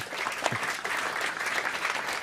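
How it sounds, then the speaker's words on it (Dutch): An audience at a Dutch stage event applauds steadily. The thick, continuous wash of clapping is close and even, with no voices rising above it. "Laten we bevestigen met applaus Claudia Jongstra"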